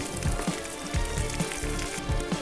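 Raisins, cashews and coconut frying in a pan for hayagriva, a traditional temple prasadam sweet: a steady close sizzle with soft crackles and pops, no voices.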